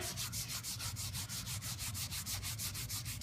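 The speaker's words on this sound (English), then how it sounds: "we're back with a clean rag, and we're just gonna rub along the grain of the wood" A clean rag rubs along the grain of soft, unsanded alder wood with a finish on it, making steady, rhythmic swishing strokes at a quick, even pace with no voices.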